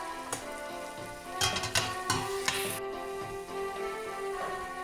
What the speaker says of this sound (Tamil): ஒரு கரண்டு ரெண்டு கரண்டு இஞ்சி உள்ளி அரைச்சப்படி போடுறேன்